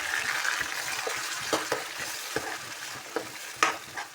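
Ginger and garlic sizzle in a frying pan as pakora ingredients cook, a steady frying hiss broken by several sharp stirring clinks and scrapes, close and fairly loud, with no talking.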